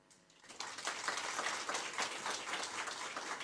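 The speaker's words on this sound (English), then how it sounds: "I think we can give another round of applause" A round of applause at an official event, a crowd clapping that swells in after a quiet half second and holds as a steady, moderately distant wash.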